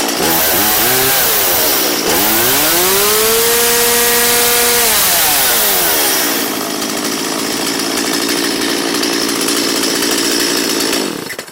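A STIHL MS170 two-stroke chainsaw that had sat unused since last season fires up and revs loudly, engine pitch sweeping up and down before settling into a steady, high, close idle that cuts off abruptly near the end.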